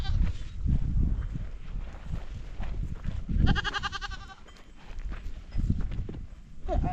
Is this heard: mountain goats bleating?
yes